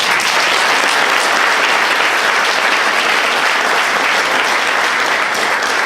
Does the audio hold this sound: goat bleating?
no